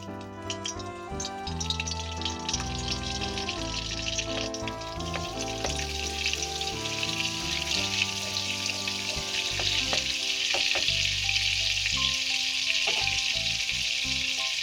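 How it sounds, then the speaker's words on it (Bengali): Cauliflower florets fry in a pan with a little butter, making a steady bright sizzle that builds through the clip, under a continuous tonal musical backing. "এগুলো আমি এবার কড়াইতে দিয়ে হালকা করে ভেজে নেব।"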